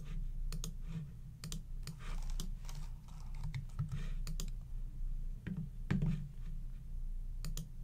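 Clicks from a computer mouse and keyboard during web design work in Dreamweaver, sharp close taps scattered irregularly over a low steady hum with no speech.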